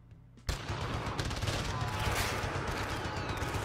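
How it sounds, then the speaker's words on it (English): Gunfire in Call of Duty bursts in suddenly after a brief quiet and keeps going as dense, rapid, overlapping shots and explosions, loud and continuous like a heavy firefight. "So much gunfire."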